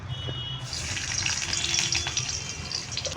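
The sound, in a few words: ginger pieces frying in oil in a kadai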